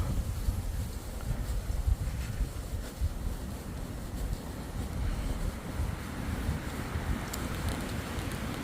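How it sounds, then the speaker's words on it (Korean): Steady, strong wind roaring and buffeting outdoors on a freezing winter day in Gyeongju, South Korea, a broad continuous rush with gusty swells and no voices. "바람 소리가 매우"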